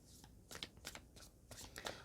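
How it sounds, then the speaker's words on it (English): Tarot cards being shuffled in bursts of papery riffling and soft slaps, fairly close and moderately quiet, with short pauses between handfuls. "So let's start shuffling the cards"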